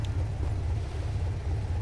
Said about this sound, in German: Der steht hier mit laufendem Motor.